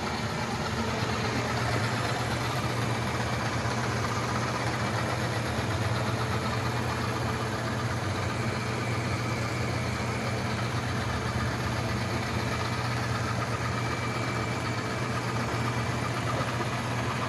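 Yeedi Vac 2 Pro robot vacuum scrubbing with a forward-and-backward motion, a steady close motor hum and whir that runs unbroken and fairly loud throughout.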